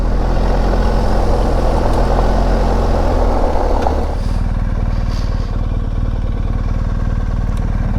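A BMW GSA motorcycle revs hard on a dirt road with a loud, rough engine roar, then drops back to a lower, steady idle-like rumble. It is close and dominant, with no talking.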